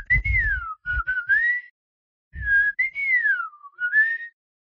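A person whistles a chirpy, birdlike melody in two phrases with a short pause between, imitating the warbling song of a rufous-collared sparrow. Clear and close, no talking.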